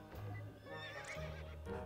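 A horse neighs in the video game To The Moon, a quiet but clear whinny with wavering pitch, accompanied by soft hoof clip-clop.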